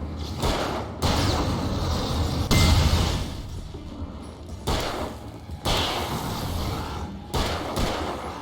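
Explosions in the video game Alan Wake: a series of heavy, booming blasts with rumbling tails, repeating every second or two, loud and close, with no talk over them.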